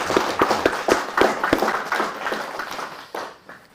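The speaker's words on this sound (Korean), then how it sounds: "박수 한번 올려드리겠습니다" A church congregation claps, starting with a few loud, sharp, separate claps that spread into scattered, uneven applause and then fade, with no talking over it.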